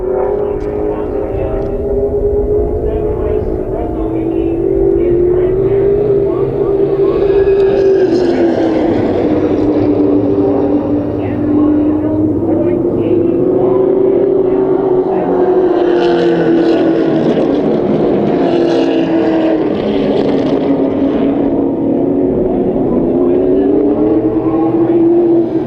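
Southwest Superlates race cars circulate at Willow Springs International Raceway, a loud sustained engine drone that rises and falls as cars pass, under continuous announcer commentary.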